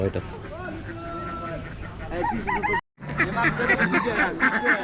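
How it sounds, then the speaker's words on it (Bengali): Ducks and geese honk and quack repeatedly nearby at a village poultry market, a busy flock of calls mixed with people talking over them. "একদম দেশি হাঁস"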